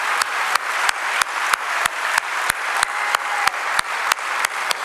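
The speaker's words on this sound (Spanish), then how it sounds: "aplaudámosle fuerte al Señor" A church congregation claps loudly and steadily in unison, a fast rhythmic beat of sharp hand claps filling the room alongside a broad wash of continuous applause, with no talking.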